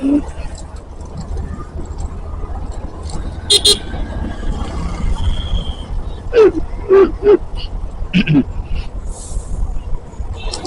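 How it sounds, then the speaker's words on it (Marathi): Busy road on a Saturday with steady traffic rumble from passing cars and trucks, punctuated by several short car horn toots, some close and loud, with a voice speaking over it. "तर आता दिसतंय तुम्हाला ट्रॅफिक पण आहे, गर्दी आहे पण."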